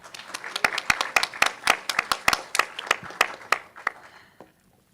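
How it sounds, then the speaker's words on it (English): Scattered hand clapping from a small crowd, a rapid run of sharp claps that thins out and stops, leaving near silence at the end. "Warm round of applause again for Nathalie."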